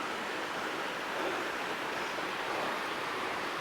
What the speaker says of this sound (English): Right, look at these waterfalls. They're pretty cool.